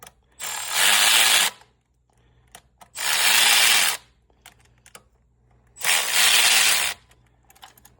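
A ratchet works on the 10 mm coil pack bolts of a 2023 Chevrolet Equinox during a spark plug replacement, with three loud, close bursts of rapid clicking, each about a second long, separated by short pauses.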